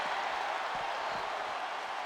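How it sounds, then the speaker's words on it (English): A crowd at a WWE 2K23 wrestling match in the video game roars as a steady, broad wash of cheering and applause, held at an even level throughout, with faint low thumps underneath. "Just listen to the crowd roar."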